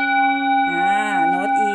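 An 8.2-inch full moon singing bowl tuned to E rings with a steady sustained tone, and its overtones waver and pulse partway through as it is played close up.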